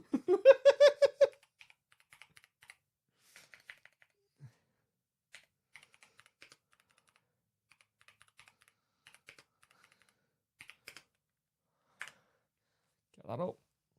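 Computer keyboard typing in short, sparse bursts of clicks at moderate distance, following a brief stretch of voice at the start, with another short voice near the end.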